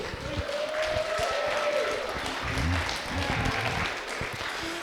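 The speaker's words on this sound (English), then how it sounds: "let's give Aidan a big round of applause" A small crowd of wedding guests claps steadily for several seconds, the applause warm and continuous without any voices standing out.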